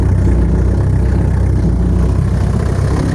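A homemade drum cultivator working damp ground: a loud, steady engine drone with a low, pulsing chug holds without pause from start to finish.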